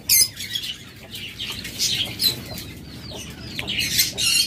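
Small pet birds such as lovebirds and cockatiels at a bird farm, a busy chorus of overlapping chirps and squawks with occasional wing flutters, steady and close with no voices.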